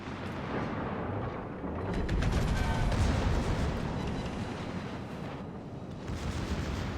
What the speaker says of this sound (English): That was just a bad salvo.